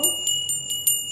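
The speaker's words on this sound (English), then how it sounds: "Ring the bell." A small bell rings five times in a steady rhythm during a noon religious rite, each strike a bright metallic ding with a long shimmering ring that carries between hits.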